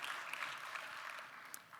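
An audience at a national convention applauding, a faint, steady wash of many hands clapping heard from a distance, continuous for the whole moment.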